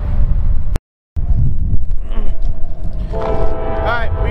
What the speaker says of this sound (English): here is whatever this train is